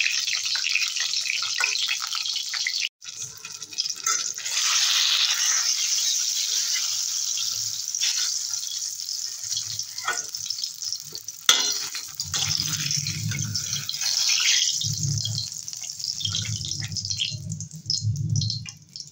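Eggplant fries in a small amount of oil in a pan, a steady hissing sizzle that runs throughout, with a spoon scraping and stirring now and then and low murmuring voices heard in the background.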